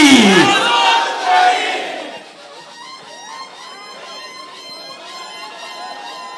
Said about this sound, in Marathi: सगळ्या पुरुषांनी जल्लोष केला